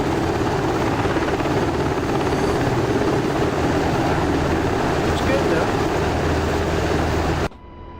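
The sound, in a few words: Apache helicopter rotors, from a video game stream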